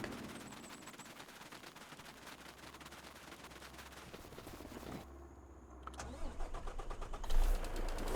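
A truck engine in Farming Simulator 25 on the Judith Plains Montana map cranks and catches after a long stretch of steady idle-like rumble, then revs in loud uneven pulses, with no talking.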